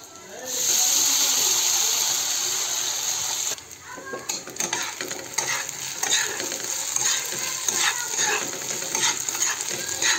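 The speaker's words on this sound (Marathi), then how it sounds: "तेल गरम झालंय, आपण मीठ टाकून घेऊ. आता साबुदाणा टाकून घेऊ." Sabudana (sago) pearls hit hot salted oil in a pan, giving a loud steady sizzle that quiets after a few seconds into lighter crackling with stirring scrapes, and a voice is heard faintly.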